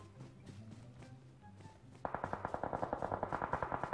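Gunfire between two teams in PUBG Mobile, distant scattered shots at first, then a loud rapid burst of automatic fire with evenly spaced cracks for the last two seconds.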